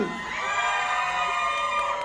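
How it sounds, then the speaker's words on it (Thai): A large crowd screams and cheers at a brand launch event for a vitamin jelly global brand ambassador, a loud, sustained wall of high-pitched shrieks lasting throughout. "ขอฟังเสียงกรี๊ดเซิร์ๆก่อนได้ไหมฮะ"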